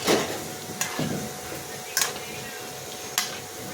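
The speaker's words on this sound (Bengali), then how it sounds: "আমি এখন ঢ্যাঁড়স ভাজছি। এই দেখো ঢ্যাঁড়স ভাজা হচ্ছে" Okra (ladies' finger) frying in a pan at home, giving a steady soft sizzle with a few sharp clicks of stirring spaced through it, close and moderately loud, with no talk.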